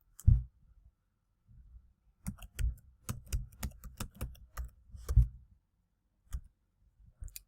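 Keys clack on a computer keyboard as a word is typed into a spreadsheet, a short burst of quick, crisp taps after a single earlier click, close and quiet in an otherwise silent room.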